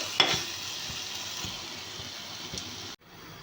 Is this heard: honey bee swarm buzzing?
no